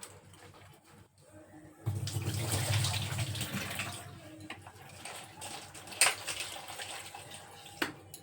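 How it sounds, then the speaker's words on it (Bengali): Soaked soya chunks are washed and squeezed by hand in water, giving a run of sloshing, splashing and wet squelches with a couple of sharper knocks near the end. "আর এখনই ফাইনালি ধুয়ে নিচ্ছি। এভাবে চেপে চেপে একদম জল বের করে"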